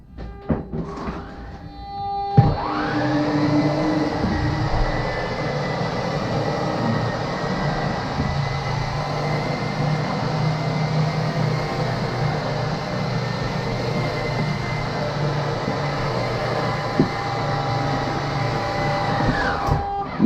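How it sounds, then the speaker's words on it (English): Schwintek RV slideout motors pulling the slide room in: a steady mechanical whir kicks in after a few thumps, runs evenly for about seventeen seconds, then cuts off. "So I'm going to press the slide out in"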